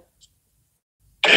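A person with a sick throat gives one short, loud burst of throat clearing or coughing right at the end, after near silence.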